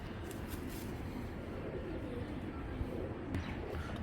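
Giribaz pigeons cooing at a pigeon farm, soft low coos over a steady background hum, fairly faint, with a few brief chirps.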